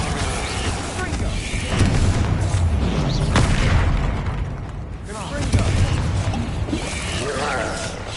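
In Hogwarts Legacy, Bombarda explosion spells go off as heavy, rumbling booms that swell and fade twice in succession, layered over dense game sound and voices.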